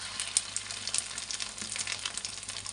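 Fish roe fritters frying in oil give a close, crackling sizzle with quick popping spatters, steady and unbroken for a few seconds with no talking.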